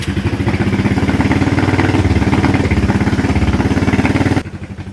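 Vintage Honda motorcycle engine with the choke on, starting and then idling in a loud, close, rapid, even putter before it drops off abruptly near the end.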